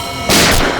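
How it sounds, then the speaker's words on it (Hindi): A single loud crack of gunfire inside a room of a haunted mansion, a brief sharp burst that stands out against a heavy, noisy background and fades quickly. "इस कमरे से गोलियां चलने की आवाज आ रही है"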